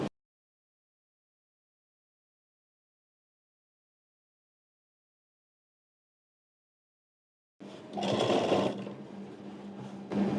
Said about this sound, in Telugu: నేను ఇలా 1 ఇంచ్ గ్యాప్తో స్టిచ్చింగ్ చేస్తున్నాను.